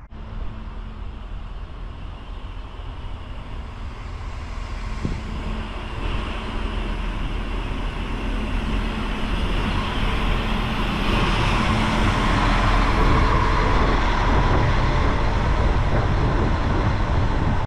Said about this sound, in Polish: Także jeszcze brakowało jednego pociągu, czyli 7 do Legnicy i już właściwie wjeżdża.